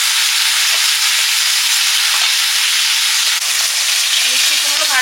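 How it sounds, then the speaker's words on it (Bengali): Catla fish head and swim bladder, coated in salt and turmeric, fry in hot oil with a loud, steady, close sizzle and crackle running throughout. "কাতলা মাছের মাথা তেল পটকা ভেজে নিচ্ছি।"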